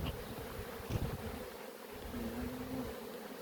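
Honeybees buzz steadily at the entrance of a hive during colony care and brood frame swaps, a dense close drone with a few louder passes as bees fly near, no talk.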